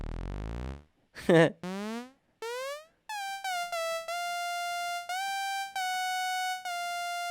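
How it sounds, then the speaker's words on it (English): A bright, buzzy sawtooth synth in Logic Pro plays a series of separate notes, first sweeping in pitch, then settling into sustained tones with short gaps between them. "a saw wave, which sounds like this"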